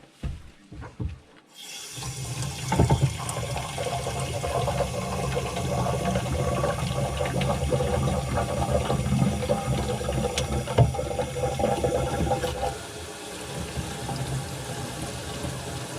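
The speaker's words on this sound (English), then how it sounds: "Run a little water, see what happens." Tap water runs steadily into a sink drain just fitted with new PVC trap connections, a continuous close splashing rush lasting several seconds after a few brief knocks at the start, easing slightly near the end.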